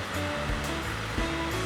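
A homemade DIY cotton candy machine spins with a steady, airy whir and a wavering motor hum whose pitch dips and recovers as it slows under load.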